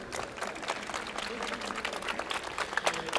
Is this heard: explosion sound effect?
no